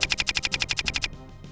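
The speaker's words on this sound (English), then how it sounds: "So then you can actually hear the gunfire and stuff" Rapid automatic gunfire in the war video game Soldiers at War, a tight burst of about a dozen evenly spaced shots lasting one second, then fading echoes.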